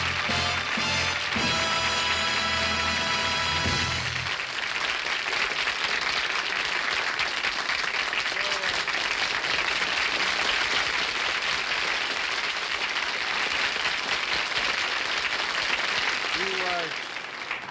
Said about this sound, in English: Sure got a lot of applause there